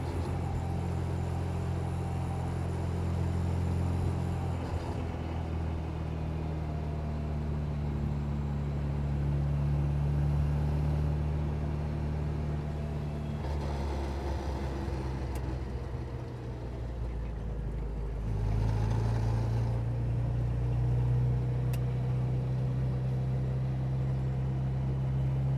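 A 1960 Super Sprite with a five-speed gearbox drives along, its engine a steady low drone heard from inside the car, with the pitch shifting at gear changes.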